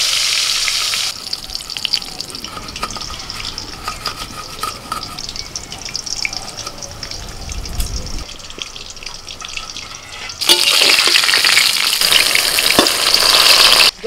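Long eggplant slices frying in oil, a steady sizzle with stirring scrapes that swells into a louder hiss near the end.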